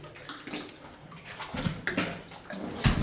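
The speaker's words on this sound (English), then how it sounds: "This is not easy to paddle and record at the same time." Paddling through water inside an abandoned mine brings irregular splashing and sloshing strokes, close and uneven, with a few louder splashes near the end.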